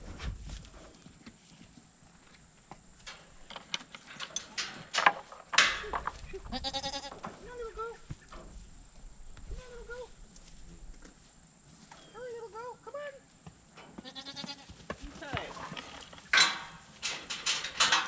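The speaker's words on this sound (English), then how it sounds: "they're just over here making noise. Come on, girls. Come on, goats." Goats kept as a small farm herd of five females let out several clear, wavering bleats spread across a stretch with footsteps and handling noises, as a person speaks now and then between the calls.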